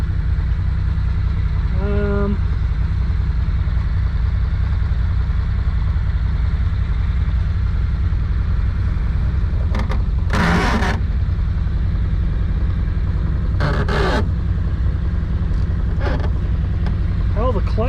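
A low, steady engine idle from a 1962 Willys Utility Wagon that sat for 28 years rumbles throughout, with a few brief clanks and scrapes over it.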